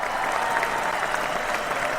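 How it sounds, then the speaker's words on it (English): Sustained applause from a circus audience fills the space steadily and loudly, with no voices rising above the clapping. "we always give them an astounding round of applause"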